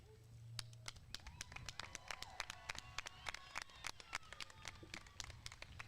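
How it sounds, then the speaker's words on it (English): Sparse, thin applause from a small graduation ceremony audience at a community college commencement, scattered individual claps heard faintly in a quiet hall. "Oh, we can give them a better clap than that"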